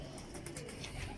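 Pigeon cooing softly in a brief, faint murmur against steady background noise, no talk.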